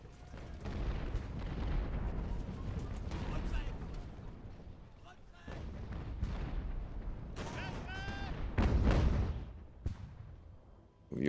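Naval cannons fire in the sailing-era battle game Ultimate Admiral: Age of Sail, a series of deep, rumbling booms and rolling broadside blasts, some near and heavy, others distant, with a voice speaking faintly between shots.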